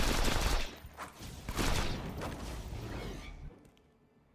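A rapid burst of gunfire in Borderlands 2 as a magazine is emptied, loud and continuous for a few seconds before fading out with a reload.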